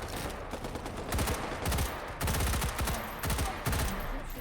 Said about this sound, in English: Oh no, Smeev's taking some shots